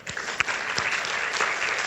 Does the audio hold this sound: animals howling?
no